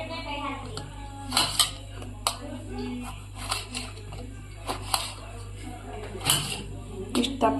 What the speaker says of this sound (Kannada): ಈ ಟೊಮೆಟೊನ ನಾವು ದಪ್ಪ ಕಟ್ ಮಾಡಿದ್ರೆ ನಡೀತೈತ್ರಿ.